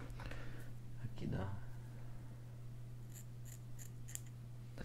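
Scissors trim beard hair close to the microphone while shaving, giving soft quick snips over a low steady hum, with a few sharper crisp clicks toward the end.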